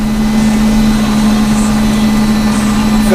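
A John Deere 4230 tractor engine runs loud and close with a steady droning hum while gears are shifted, with no clear change in pitch.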